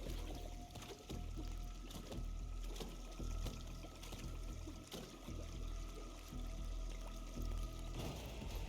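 Water runs into a basin in the video game Hitman 3, set in Colorado, as a steady stream pouring under low game ambience and scattered soft clicks and thuds.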